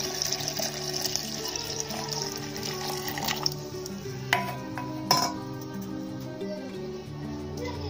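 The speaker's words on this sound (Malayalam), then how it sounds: "ഇനി ഇതിലോട്ട് ഞാൻ തണുത്ത വെള്ളം കൂടി ഒഴിക്കുകയാണ്" Cold water pours steadily into a blender jar of lime juice, a continuous liquid rush with a few glassy clinks along the way, close and moderately loud, with no talking.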